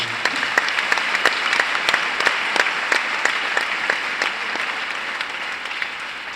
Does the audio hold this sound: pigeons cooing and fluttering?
no